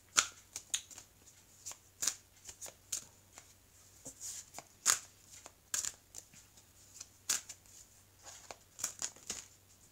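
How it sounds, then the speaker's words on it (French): Tarot cards being shuffled by hand: close, crisp riffling and flicking bursts in an irregular rhythm, fairly quiet, with no talking. "je vais mélanger donc ces cartes"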